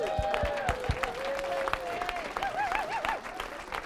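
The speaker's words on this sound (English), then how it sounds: "Can we give Carson a round of applause?" A room of people at a real estate training session gives faint, diffuse applause, partly masked by background music and a few brief voices.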